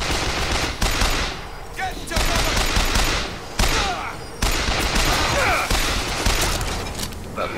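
Gunfire in BioShock Infinite comes as dense, loud, repeated shots with heavy mechanical clatter throughout, the bursts divided by a few brief dips.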